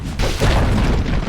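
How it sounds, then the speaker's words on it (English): A Dota 2 tower collapsing during a Quincy Crew versus Beastcoast playoff match: one deep, loud boom with a sustained rumbling crash that fills the whole moment. "Dire's top tower has fallen"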